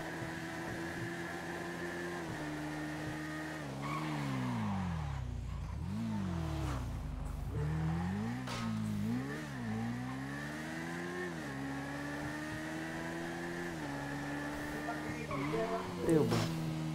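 Motorcycle engine in a video game revving and shifting pitch repeatedly, rising and falling whines across several throttle swells, loud and continuous with no pauses.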